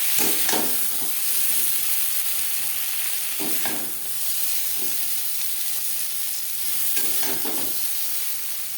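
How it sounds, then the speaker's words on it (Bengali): Pointed gourd (potol) slices fry in hot oil in a pan, giving a steady, loud sizzle and hiss throughout, with a few scraping stirs of a spatula standing out over the frying. "পটল হালকা করে ভাজা হয়ে গেছে, এর থেকে বেশি ভাজবার প্রয়োজন নেই।"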